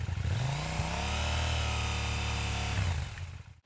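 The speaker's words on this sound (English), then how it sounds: "Oh, and that stock exhaust?" A 2018 KTM 790 Duke, a parallel-twin with a 75-degree crank, rumbles through its stock exhaust in a loud, steady, deep idle-to-rev drone that holds for about three seconds before easing off.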